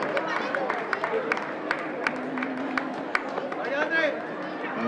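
Scattered clapping rises from a crowd greeting runners finishing a 2000-metre race at the Giro di Trento, sharp separate claps over a murmur of chatter, with a voice talking throughout.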